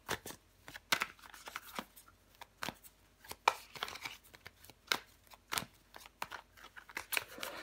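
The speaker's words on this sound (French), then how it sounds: "On va recouvrir des cartes." Tarot cards shuffled by hand during a weekly Leo reading, giving a quiet run of crisp, irregular slaps and riffling flicks with short pauses between them, close up and with no talking.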